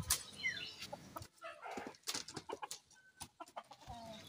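Chickens cluck softly while eating in short, scattered bursts close by, a quiet farmyard scene with no talking.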